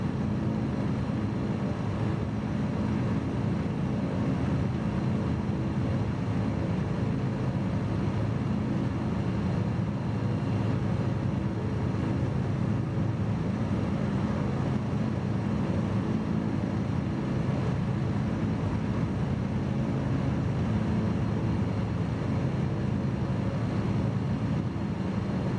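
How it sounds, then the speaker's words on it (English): An aircraft in Microsoft Flight Simulator 2020 drones through its takeoff run with a steady, broad engine roar that holds constant for the whole stretch, no speech over it. "Takeoff power set. Airspeed alive."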